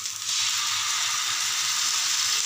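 Tomato paste frying in a pan for a spicy pabda fish curry, giving a steady, close sizzle that stays even and unbroken throughout, with no voices.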